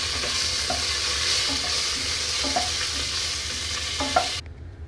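Curry leaves sauté with cloves and cinnamon in oil for nombu kanji, a steady close sizzle broken by occasional soft spatula stirs, cutting off abruptly at the end, with no speech.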